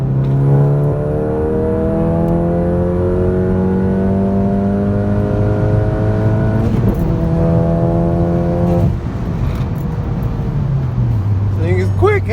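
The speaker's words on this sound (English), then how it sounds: "So this will be a third gear, 60 mile an hour pull." A tuned 2019 VW GTI pulls hard in third gear from about 60 mph, engine note rising steadily in pitch over several seconds before a shift and drop, heard loud from inside the cabin.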